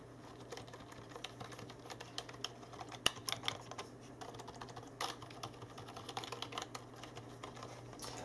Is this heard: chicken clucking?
no